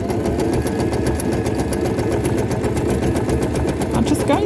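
A sewing machine sews a twisted scrap-fabric rope coil into a rope flower, a steady close rhythmic motor hum with fast regular needle pulses running continuously throughout, with a voice speaking over it.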